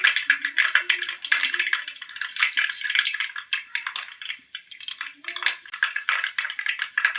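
Fenugreek seeds crackle and spit in hot oil, giving a steady, busy sizzle with bright pops and faint metallic scraping throughout.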